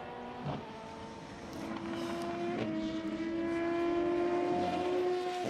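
A Dallara race car of the Racing Team Netherlands in qualifying at the 1000 Miles of Sebring, its engine droning steadily with a rising whine, fairly close and growing slightly louder, no talk over it.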